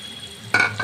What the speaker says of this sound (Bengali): এখন আমি একটু পানি অ্যাড করে দিচ্ছি